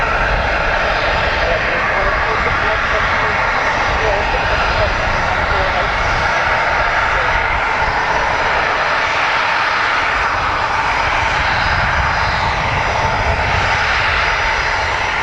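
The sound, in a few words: AirX charter jet aircraft arriving at Dublin Airport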